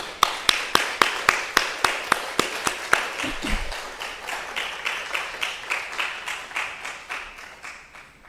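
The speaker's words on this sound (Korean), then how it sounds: "우리 나오실 때 박수로 환영해 주시겠습니다." A church audience at a neighbour-invitation gathering claps to welcome a speaker, starting with a few crisp, evenly spaced claps that grow into steady applause and fade toward the end, with a brief voice partway through.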